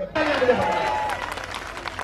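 Audience at a political election speech breaking into applause, a dense burst of clapping that starts abruptly and then thins out over two seconds, with a voice speaking over it.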